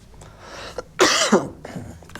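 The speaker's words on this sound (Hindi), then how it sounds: "बार बार आपको क्लास में खांसना पड़ रहा है" A teacher coughs during an online class: one loud, harsh cough burst, followed by a smaller second cough and a throaty breath, with faint noises around it.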